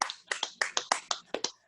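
A few people clap a short round of applause for a football talk show, about ten crisp, evenly spaced claps in under two seconds, close and isolated.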